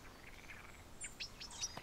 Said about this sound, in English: A juvenile robin attracts its attention